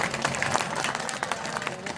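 Audience clapping at a Hindi comic poetry gathering (hasya kavi sammelan), a dense, fairly steady wash of applause from a crowd filling the whole moment without pause.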